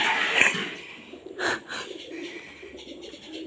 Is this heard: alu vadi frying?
no